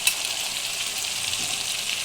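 Potatoes and chicken curry frying together in a hot pan, giving a steady, close sizzle and crackle that holds at an even level throughout the short stretch, with no voices.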